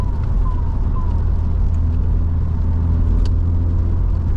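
A Vauxhall Cavalier CD 2.0 16v cruises at a steady pace on a long motorway trip, with a constant deep engine and road rumble heard from inside the cabin.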